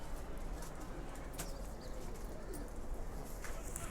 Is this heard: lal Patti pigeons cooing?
yes